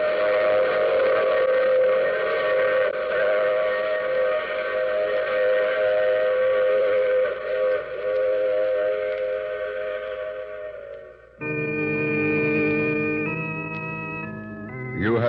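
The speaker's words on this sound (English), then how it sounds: "I take this same train every week at this same time." A train whistle sounds as a radio drama effect, a long sustained multi-tone steam whistle over rolling noise, then a shorter, higher whistle blast near the end.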